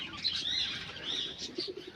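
A Telmark pigeon coos softly in a few short, low murmuring calls, faint and close, with some light higher chirps over a quiet background.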